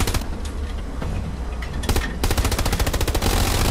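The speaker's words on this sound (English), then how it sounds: "The machine gun noise." Machine guns fire long, loud rapid bursts during a chaotic trench battle in a video game, fast rattling volleys that grow denser toward the end, with no speech.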